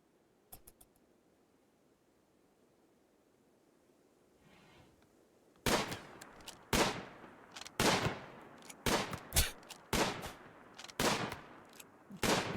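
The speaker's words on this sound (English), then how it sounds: "The classic max range shooting. Middle of the marsh hunting." Gunfire in a RimWorld hunt in a marsh: after a quiet stretch with faint ticks, a rapid run of loud, evenly spaced game gunshots fires one after another, about a dozen sharp cracks.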